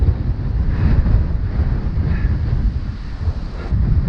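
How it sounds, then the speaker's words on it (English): Steady crosswind buffets the microphone of a cyclist riding along a road, a loud continuous low roar that rises and falls without pause and with no talk over it. "Definitely haven't missed the wind."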